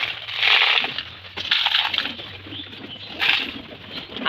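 Pet pigeons being fed, with bursts of wing flapping and scuffling close by, alongside soft coos and pecking noise, no talk.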